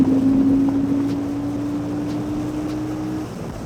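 Motorcycle engine under a launch in first gear, holding a steady, loud droning tone that eases slightly in pitch, with wind buffeting the microphone throughout.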